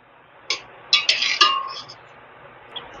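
Whole mace, black pepper, bay leaf, cinnamon and star anise dry-roasting in a pan, with a few sharp metallic clinks and scrapes clustered in the middle, then fading to quiet.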